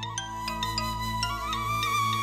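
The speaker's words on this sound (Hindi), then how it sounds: "एक मिनट, आदि का फोन आ रहा है।" A phone rings with an incoming call, its ringtone playing a rhythmic melody of repeated bright chiming notes over a steady low hum, continuous and close.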